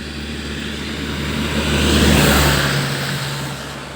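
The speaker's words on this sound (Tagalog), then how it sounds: "Ayan, may sasakyan na dumaan." A car passes along a highway near a beach resort, its engine and tyre roar swelling to a loud peak midway and fading off, heard alone without talk.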